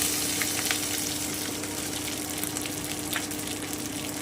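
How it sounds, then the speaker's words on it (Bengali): Spices including ground cumin and coriander sizzle steadily in hot oil in a pan for a squash curry with prawns, a continuous close, loud frying hiss with occasional faint scrapes of stirring. "আমি একটু নেড়ে নিচ্ছি এবারে আমি ধনে গুঁড়োটা দিয়ে দিচ্ছি এক চামচ মতো"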